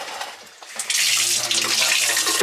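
Purified water pouring from a tap to mix an egg water-glassing solution, a steady, bright rushing splash that starts abruptly after a quiet moment and continues close by.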